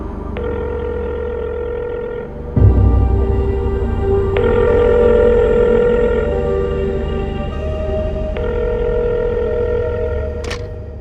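Telephone ringing in a film scene, a repeating electronic ring that pulses in regular cycles over a low background score, close and clear with no talk over it.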